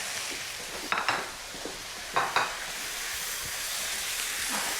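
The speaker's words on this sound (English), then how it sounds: "you're going to hear a little sizzle when that hits the bottom" Beef sizzles sharply in a hot wok, with two loud hissing bursts as it hits the pan over a steady background hiss of frying.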